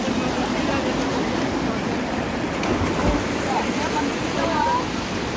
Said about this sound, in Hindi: ओहो पानी बड़ी तेज़ है, बहाव काफ़ी तेज़ है।